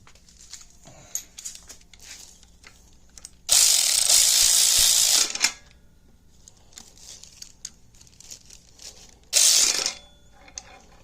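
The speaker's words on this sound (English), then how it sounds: "we'll tighten these ones up permanently because they just hold the bracket to the pump" A hand ratchet tightens the bolts that hold an accessory bracket onto an engine's power steering pump. There are two loud bursts of rapid clicking, one long and one short, between quieter shop noises.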